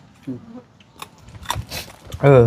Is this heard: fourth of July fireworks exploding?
no